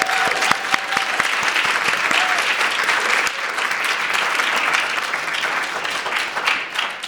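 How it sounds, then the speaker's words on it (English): Audience at a children's rights panel event clapping a round of applause for professors, a sustained wash of many overlapping claps filling the room, fairly loud and steady, fading slightly toward the end. "If we could give them a round of applause, please."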